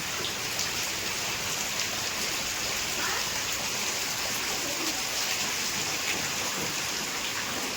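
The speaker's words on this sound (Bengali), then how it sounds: "বৃষ্টি থামারই নাম নেই ভীষণ বৃষ্টি হচ্ছে" Heavy rain falls outside onto a waterlogged courtyard, a dense unbroken hiss of drops hitting surfaces and pooled water, constant in level throughout.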